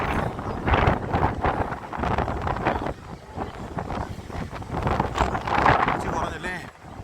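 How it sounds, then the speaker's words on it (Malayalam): Strong gusty wind buffets the microphone on the seashore at Kanyakumari, giving a loud continuous rumble and roar with surging gusts. "ചെറിയ കാറ്റ് ഇപ്പോൾ ശക്തമായിട്ടുള്ള കാറ്റാണ്."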